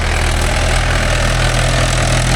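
A Mahindra 575 DI tractor engine runs close and loud in a field, with a steady, throbbing diesel idle and no breaks.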